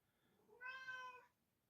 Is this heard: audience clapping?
no